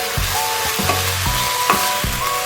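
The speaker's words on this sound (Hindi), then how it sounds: "बस इसको भी 1-2 मिनट भूनना, ज़्यादा इसको नहीं भूनना ताकि सब्ज़ी हमारी क्रंची सी रहे" Vegetables including cabbage stir-fried in a pan for spring roll filling, a steady close sizzle broken by repeated scraping stirs, with no voices.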